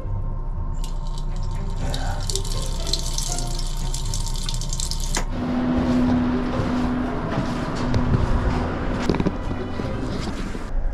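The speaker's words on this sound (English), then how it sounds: "water is so strong, you just spray everywhere" Water gushes hard from a faucet into a small train bathroom sink, a loud steady spray that turns rougher and splashier partway through.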